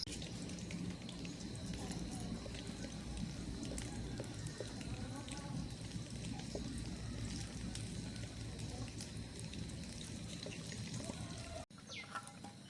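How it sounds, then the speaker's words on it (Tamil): Ivy gourds (kovakkai) are washed by hand in water, giving a steady close sloshing, trickling and splashing throughout that stops abruptly near the end. "நாங்கள் இப்போ இந்த கொவ்வங்காயை வடிவாக கழுவி எடுப்போம்."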